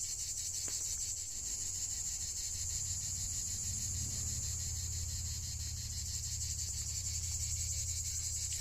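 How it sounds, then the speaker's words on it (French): Continuous high, buzzing drone of cicadas at a farm, heard from a parked van, steady and pulsing throughout, with a low rumble underneath. "le bruit des cigales"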